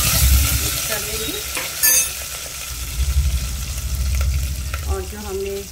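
Turmeric powder is stirred into kadhi in a pan at home, with scraping and stirring strokes and a soft sizzle running under them through the whole stretch, a little louder near the middle and end.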